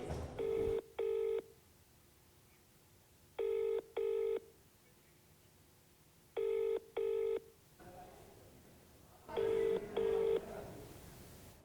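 Repeated ringback tones on an unanswered phone call to a legislator: four pairs of double rings spaced by pauses, clear and steady, with no one picking up.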